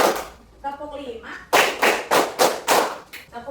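A group of people clap together in rhythm, loud sharp claps in quick bunches that end in a run of five near strokes, with a voice heard before the claps begin.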